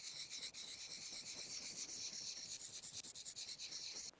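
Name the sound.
knife being sharpened with a sharpener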